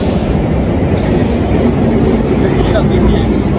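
A London Underground train runs by with a loud, steady rumble and faint clickety-clack along the rails, filling the whole stretch at close range.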